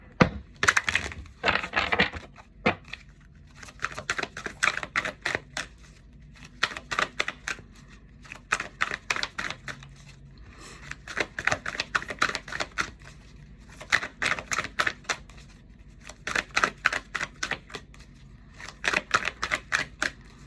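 Quick bursts of crisp riffling and flicking as tarot cards are shuffled, repeating in short rhythmic flurries with brief pauses between them.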